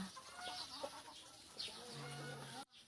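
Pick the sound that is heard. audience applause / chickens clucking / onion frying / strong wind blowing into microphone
chickens clucking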